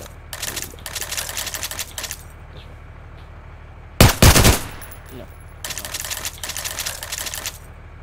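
Automatic gunfire rattles in Garry's Mod gameplay: short rapid bursts, then a louder, heavier volley, then two longer sustained streams of fire, all close and loud with quiet gaps between.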